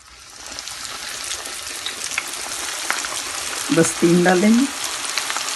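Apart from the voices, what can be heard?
chicken cooking in pan on medium-low heat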